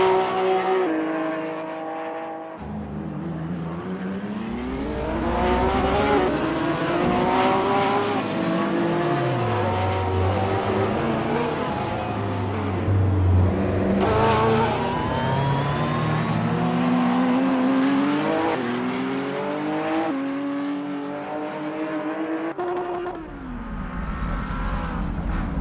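A Porsche 911 GT3R race car lapping Spa, a loud, rasping engine climbing through the revs with sharp upshifts, dropping low under braking and surging again, close and continuous.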